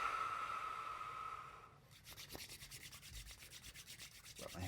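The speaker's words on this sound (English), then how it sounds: "Rub my hands together and blow chi." Hands rub together in quick, close, rhythmic strokes during an ASMR Reiki session. The swishing friction starts after a soft breathy lead-in and is intimate and clearly audible.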